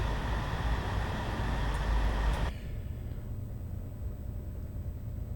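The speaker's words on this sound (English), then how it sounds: "the noise from the train is really good" A Class 222 diesel train running in Train Simulator 2020, a loud rumbling engine drone with a steady hum that drops abruptly to a quieter idle halfway through.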